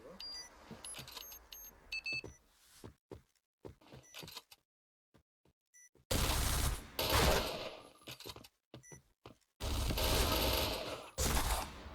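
Point Blank gunfire: sharp shots and rapid clattering bursts, first sparse and quieter with gaps, then two loud dense volleys close by.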